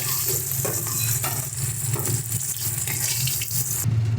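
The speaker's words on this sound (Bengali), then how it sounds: "মাছগুলো আমাদের ভাজা হয়ে গেছে একদম হালকা করে একটু ভেজেছি" Hilsa fish fries lightly in oil with a continuous close sizzle that has a watery, bubbling texture. It holds at an even level throughout, with no voices.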